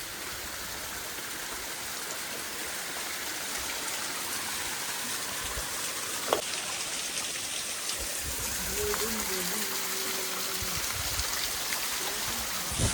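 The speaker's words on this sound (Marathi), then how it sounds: "तर हा बघा, हा एक छोटासा वॉटरफॉल." A small hillside waterfall, running low after a few dry days, gives off a steady, even rush of flowing water throughout, with a brief knock partway through.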